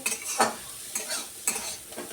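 Saag greens fry in oil in a karahi, with short scraping stir strokes recurring about every half second over a soft, steady sizzle.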